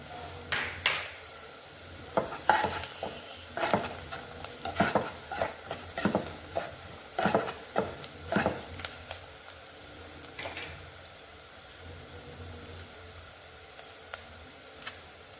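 Onions for channa masala sizzle softly in a pan while a spoon stirs and scrapes against the metal in irregular, fairly close strokes, with quiet gaps between them and no speech.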